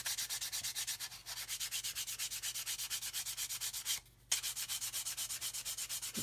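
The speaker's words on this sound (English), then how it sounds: "So you keep sanding until you get that in." Steady back-and-forth strokes of hand sanding on a fibreglass boat hull, loud and close, with a regular scraping rhythm and one brief pause.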